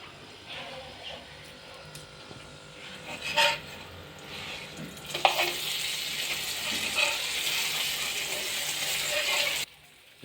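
Saag paratha fries in ghee on a griddle, a soft sizzle that swells into a louder, steady crackle once the bread is flipped and more ghee is added, with brief utensil scrapes along the way.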